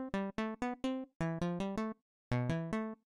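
A Serum synth saw patch with its metal macro turned up plays a melodic run of about ten short, bright, buzzy notes in three phrases with brief gaps, loud and close, with no talking over it.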